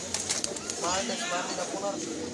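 Pigeons, including Jacobin and Sirazi breeds, coo softly in repeated rolling bursts at the crowded Mirpur-1 pigeon market, under market chatter and people talking nearby.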